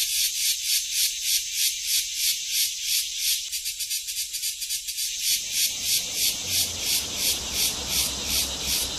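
Cicadas in southern France singing in a dense, pulsing high-pitched buzz, rhythmic waves of rasping chirr repeating throughout, loud and close, with a low rustling murmur joining partway through.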